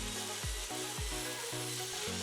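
A saw cuts black locust wood indoors for a batten, running loud and continuous with a regular dip in pitch roughly every half second, with no voices.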